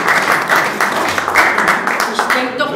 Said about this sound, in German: Ihr könnt ein bisschen klatschen.